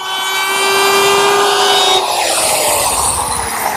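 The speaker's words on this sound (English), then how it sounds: "Now we'll flip it over and round over the underside." A router fitted with a 1/2 inch rounding-over bit cuts along the underside of a teak counter in a woodshop, giving a loud, steady, close-up whine that runs through the whole clip with no talking.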